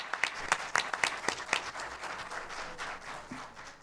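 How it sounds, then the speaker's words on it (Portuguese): Audience applause at a Brazilian federal courts conference, scattered sharp claps at first that blend into a softer, distant-sounding ripple of clapping across the hall. "Salva de palmas."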